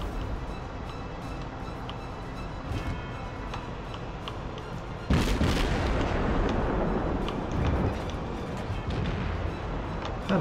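World of Warships ship artillery: distant gun shots come at intervals, then a loud salvo blast erupts midway and rolls into rumbling booms.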